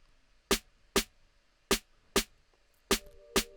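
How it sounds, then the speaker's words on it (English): A Moombahton snare pattern programmed in FL Studio hits six times. The sharp, punchy strikes are spaced unevenly and sound close and dry against a quiet background. "So the Moombahton snare will hit like this."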